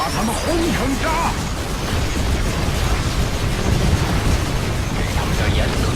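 Explosions go off in the demo of the video game Project "Blizzard Enforcement" as a continuous rumbling barrage of booms and blasts, loud and dense, with voices speaking over the noise.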